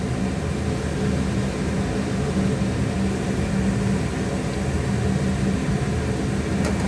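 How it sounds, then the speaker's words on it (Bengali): Lemon-marinated chicken frying in a wok (kadai) over a gas flame gives off a steady, loud, even hiss that carries on unbroken with no voices over it. "এবার আমি চিকেনটা কড়াইতে দিয়ে দিলাম"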